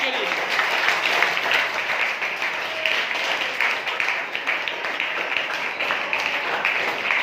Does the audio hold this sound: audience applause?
yes